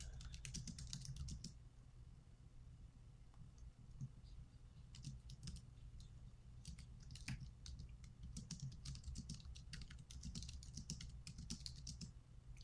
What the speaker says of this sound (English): I haven't typed it in yet.